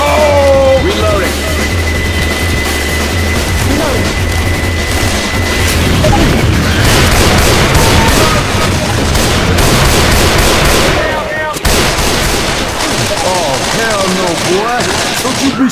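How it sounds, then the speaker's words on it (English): Dense, continuous gunfire from the zombie shooter game Left 4 Dead 2 rattles through the whole stretch, rapid bursts and booming shots overlapping loudly with game effects and shouting players. "Don't you be shooting me!"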